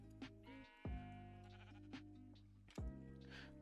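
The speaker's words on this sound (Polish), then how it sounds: "To jest diament owca." Diamond sheep in the Minecraft video game bleat three times in quick succession, loud, close and clean, with no talk over them.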